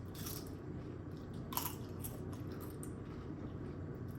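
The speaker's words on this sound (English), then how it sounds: "Chewing so fast." Flamin' Hot Doritos nachos with cheese are chewed fast and close up, giving a steady run of soft, wet crunching and squishing bites, with a sharper crunch about midway.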